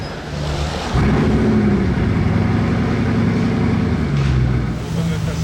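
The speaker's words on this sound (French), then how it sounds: "On va avoir le cold start de la Chiron." A Bugatti Chiron cold start: the engine fires and holds a loud, deep, rumbling roar that stays close and continuous, with people talking over it.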